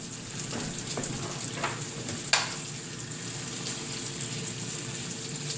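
Bacon sizzling in a skillet, a continuous crackling hiss with a few brief scraping or stirring sounds near the start, close and fairly loud with no talking.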